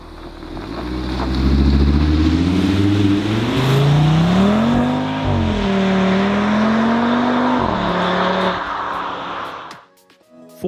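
A 2022 Audi RS3 Sportback is driven hard down a road, its engine droning loud and steady with rising and falling pitch through gear changes, close and continuous before easing off near the end.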